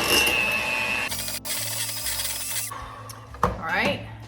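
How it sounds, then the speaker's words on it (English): An electric mixer beats salted butter with another ingredient in a home kitchen, a steady motor whine that starts, shifts pitch and stops, with clatter against the bowl and a voice talking at times. "I'm gonna get my mixer and I'm gonna go ahead and start by mixing these 2 ingredients together"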